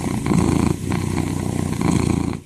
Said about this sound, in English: Even the youngest kittens can purr, and they often do while nursing or being cleaned.